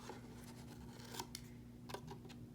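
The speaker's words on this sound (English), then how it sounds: "And I'm just cutting all those little corners off" Scissors snip corners off a paper flower petal, a few quiet close cuts and rustles against faint background hum.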